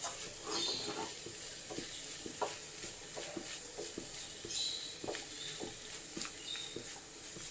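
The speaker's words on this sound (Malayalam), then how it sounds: "നന്നായിട്ടൊന്ന് ഇളക്കട്ടെ കേട്ടോ" Curry being stirred in a pan, a soft continuous scraping with irregular spoon knocks and light sizzling, no talk.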